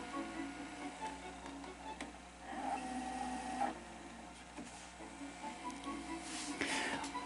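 A Sony SL-HF1000 Betamax VCR rewinding a tape gives a steady mechanical whir and hum with faint ticking. It is quiet and continuous, with a few clicks near the end.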